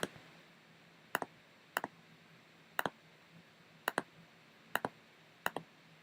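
Isolated keystrokes on a computer keyboard while entering a task into a to-do app, with sharp clicks arriving in quick pairs about once a second over a quiet background.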